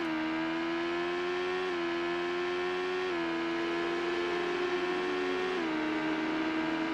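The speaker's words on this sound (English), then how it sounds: "I'm hearing cars. Are they behind me?" Racing video game cars drone with a steady whirring engine tone that shifts pitch in small steps as they accelerate and change gear, moderately loud and continuous with no talk.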